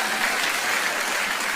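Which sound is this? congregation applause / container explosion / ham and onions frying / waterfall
congregation applause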